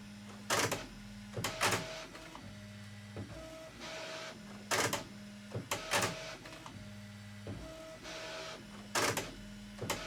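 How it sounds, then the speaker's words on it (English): A Bambu Lab H2D 3D printer component bangs loudly and sharply at a repeated interval, with the printer's motors whirring and humming in between each hit. "This is the component responsible for the loud banging sound."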